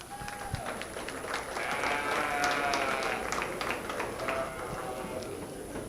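Sheep bleat in a livestock show ring at the Dodge County Fair, with several faint, wavering calls rising over a murmuring barn crowd and scattered clatter, all fairly distant and low in level.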